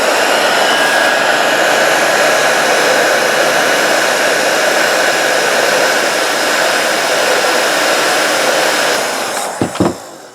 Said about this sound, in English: So I'm just going to heat these with a hot air gun.